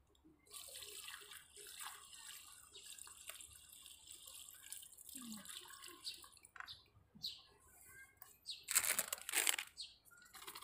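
Garden plants being watered give a faint, steady trickle and patter, rising to a brief louder splash near the end.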